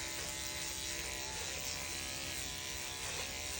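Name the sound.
electric clippers body clipping a gray horse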